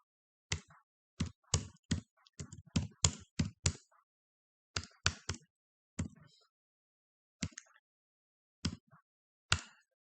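Typing on a computer keyboard during JavaScript coding, with quick bursts of crisp, close key taps, then sparse single keystrokes with pauses between them.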